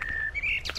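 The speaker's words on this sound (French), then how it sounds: "ça piaille là-dedans" Small birds chirping and singing outdoors in spring, with a clear whistled note followed by quick high tweets, close and fairly loud over a faint low background.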